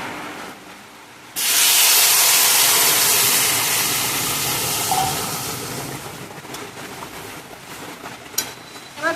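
Hot water poured into a hot pan of prawn curry with potato and pointed gourd sets off a sudden loud, broad hissing burst of steam that slowly settles into a softer bubbling sizzle with a few clinks near the end.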